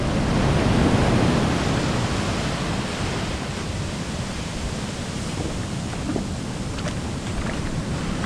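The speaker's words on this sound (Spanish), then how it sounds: "el oleaje aquí es muy fuerte" A constant heavy roar of surging sea water fills the scene, broad and rushing, with no voices over it.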